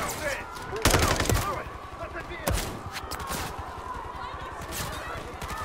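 Gunfire in the Call of Duty Modern Warfare III campaign: a couple of loud bursts of shots stand out over a busy background of game sound and scattered fainter noises.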